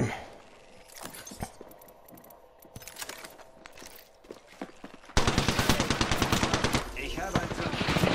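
Rapid automatic gunfire bursts erupt, loud and close, after a quieter stretch of scattered shots and mechanical clicks, in the game Apex Legends.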